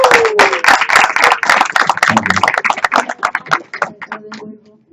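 Applause from a congregation in a Baptist church, dense clapping and cheering that gradually thins out and fades, with a few voices heard over it.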